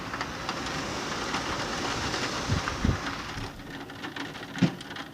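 Heavy storm rain pours steadily on surfaces, a dense continuous wash with a few louder thuds and splashes rising out of it near the middle and end.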